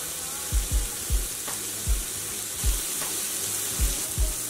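Pork loin sears in a cast iron skillet on the stovetop, a steady loud sizzle with several low thumps and clunks scattered through it, with no speech.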